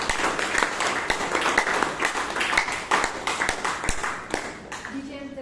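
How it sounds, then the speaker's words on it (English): Audience applause for a speaker at a Toastmasters club meeting in Bangalore, a steady room-filling patter of many hands clapping for over five seconds, tapering near the end. "Can we have a round of applause for our speaker"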